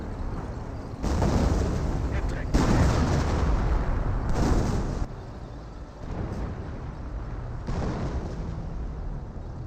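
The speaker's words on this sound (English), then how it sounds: "I think that is a creeping barrage" A creeping artillery barrage in the World War II strategy game Company of Heroes rumbles as a heavy, continuous roar of overlapping booms, swelling and fading in long sections, loud and dense with no clear gaps.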